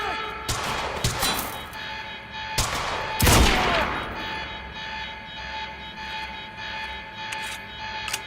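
Gunfire in the video game Quantum Break, set in an R&D facility garage: several loud, sharp shots and bursts in the first four seconds, then lighter scattered cracks over a steady background hum.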